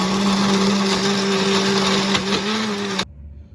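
Kitchen blender whirring steadily as it blends spices, seasoning and vegetables for oven jerk chicken, a loud continuous motor drone with a high whine that cuts off abruptly near the end.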